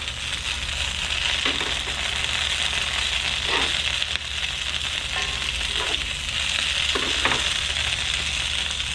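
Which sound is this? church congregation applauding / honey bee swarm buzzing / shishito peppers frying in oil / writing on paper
shishito peppers frying in oil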